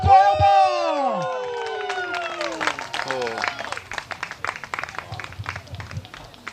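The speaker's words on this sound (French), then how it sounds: "Allez, on l'applaudit." A large crowd claps and cheers loudly at the finish of a 10 km points race, with whoops and a clear voice over a loudspeaker at the start, then steady dense applause continuing under the calls.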